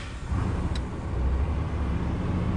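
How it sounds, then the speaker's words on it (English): A 5th-gen Cummins diesel pickup truck engine cranks and catches after a brief pause, then settles into a close, steady low rumble at idle with no talking. "Once the truck is tuned, I just like to make sure it starts and everything worked good."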